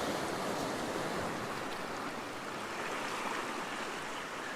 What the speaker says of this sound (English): Trying to get waves coming over these rocks, waves going over those rocks.